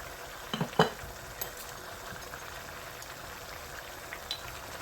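Ground coriander and cumin are stirred into a mustard greens curry, giving a faint steady sizzle and bubble. Two or three spoon scrapes and knocks come early on, with a few light taps later.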